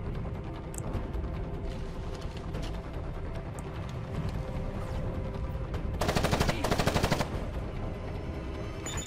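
A rapid burst of automatic gunfire, loud and sharp, rattles for about a second near the end over a steady rumbling ambience in the game Ghost Recon Advanced Warfighter 2.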